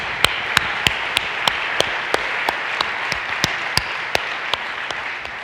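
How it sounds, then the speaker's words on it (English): An audience at the GraphQL Summit 2018 opening keynote applauds in a conference hall, with sharp individual claps standing out at a fairly even pace over a steady wash of clapping. "so let's have a round of applause for them, too."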